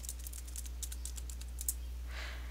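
Rapid keystrokes on a computer keyboard as a password is entered, a quick irregular run of light clicks over steady low hum, followed by a soft brushing sound near the end.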